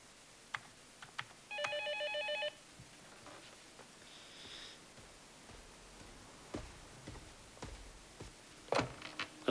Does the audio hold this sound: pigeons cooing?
no